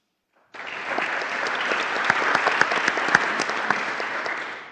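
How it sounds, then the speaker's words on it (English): Applause breaks out at a Lynn Haven city commission meeting, with a room full of people clapping steadily and fairly close for several seconds after a brief quiet start. No voices are heard over it. "I just wanted to recognize him with a round of applause as well"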